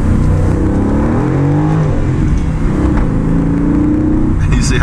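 Aston Martin Vantage in Sport Plus mode accelerating hard, engine revving loudly and rising in pitch through a gear change, close and dominant for several seconds.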